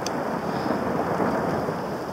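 Thunder rumbles through a storm near a natural rock bridge, a low continuous roll mixed with the hiss of rain, with no talk.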